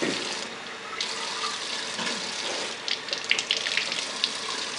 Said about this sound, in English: All the rinse them out, rinse them off,